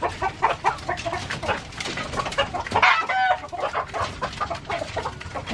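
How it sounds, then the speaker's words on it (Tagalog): Rural farmyard chickens cluck busily and close by, a dense overlapping chorus of short calls with one longer, louder squawk near the middle. "magpapakain po tayo ng manok Kakabsat"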